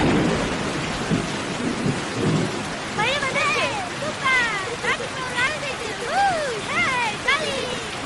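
A thunderstorm sets in with heavy, steady rainfall hissing over everything and low rumbling thunder, while chirping bird-like calls and a few brief voices rise above the downpour.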